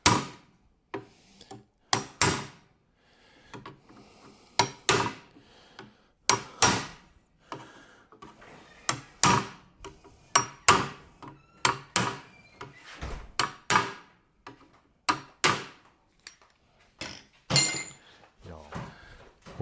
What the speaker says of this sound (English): I have this chisel here. It's going to give these edges a little work.